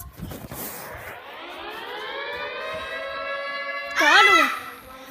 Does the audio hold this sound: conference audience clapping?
no